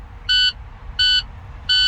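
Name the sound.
truck low air pressure warning buzzer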